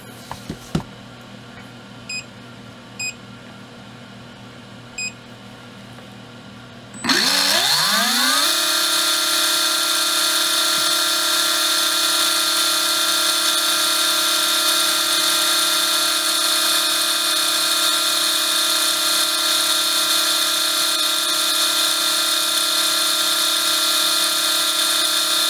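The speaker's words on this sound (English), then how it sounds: "I decided to go ahead and run the motor for 20 seconds." A Tekin Elite 17.5t Gen4-R2 brushless RC motor on a test run: after a few faint beeps it spins up abruptly into a loud, steady high-pitched whine that holds evenly for about twenty seconds.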